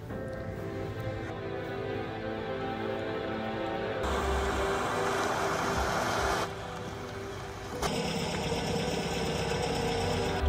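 A car engine running steadily while driving, a continuous mid-pitched rumble with road noise that swells and shifts in tone partway through, with no talking.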